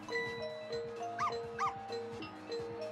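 Dog barking in the Ghost Trick video game, a series of quick repeated barks and yips over a looping musical background.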